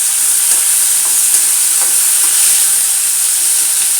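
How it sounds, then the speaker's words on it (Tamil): Adamant creeper (pirandai) hisses and sizzles loudly and continuously in a hot pan as it is sautéed for thovayal, with soft stirring scrapes now and then and no voices. "பிரண்டையை சேர்த்துடலாம். நல்லா கலர் மாறினதுக்கு வதக்கணும்."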